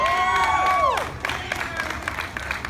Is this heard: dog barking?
no